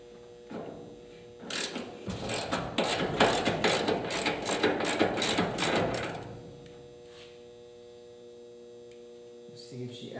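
A ratchet loosens the hood hinge mounting bolts on a 1958 Chevy, a rapid run of close clicking ratchet strokes lasting a few seconds over a steady low hum, then a quieter stretch with a brief clank at the end.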